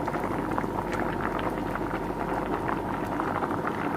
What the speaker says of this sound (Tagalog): I-drain ko muna siya bago kaininan.